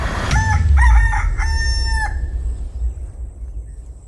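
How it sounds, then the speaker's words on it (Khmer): A rooster crows loudly and close by, a few strained cock-a-doodle-doo calls in quick succession that trail off into quiet, with no one talking. "ខ្ញុំត្រូវតែរកមាន់នោះឲ្យឃើញ"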